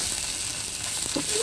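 Ground spice paste sizzles in a pan of prawn curry, producing a steady, close, bright frying hiss with a faint scrape near the end.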